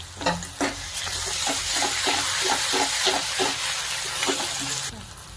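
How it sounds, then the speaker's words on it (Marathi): Garlic paste sizzles in a pan of sautéed onion and tomato, with a steady close frying hiss broken by regular scrapes and clinks of a stirring spoon. "लसूणची पेस्ट घेतली एक चमचा ती टाकायची आणि छान परतून घ्यायची"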